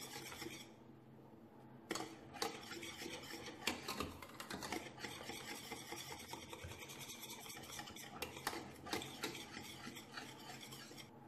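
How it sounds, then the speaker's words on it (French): A whisk or spoon scraping and stirring custard cream in a pot as it thickens, a continuous rasping, rubbing sound with slightly stronger strokes, close by and alone. "je laisse épaissir ma crème sans cesser de remuer"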